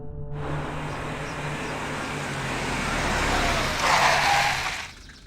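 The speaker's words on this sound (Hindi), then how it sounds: "ठीक है सर, गाड़ी यहीं पर रोक दीजिए" A car on a road rumbles closer and grows louder, then eases off and goes quiet as it comes to a stop, with steady road noise throughout.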